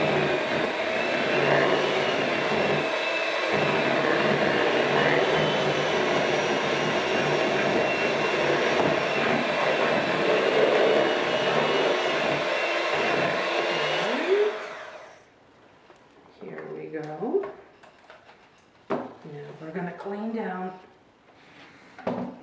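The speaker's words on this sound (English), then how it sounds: "then we'll whisk again until it's perfectly incorporated" An electric whisk beats tiramisu cream with a steady, loud whirring for about fifteen seconds, then cuts off, and a person talks afterward.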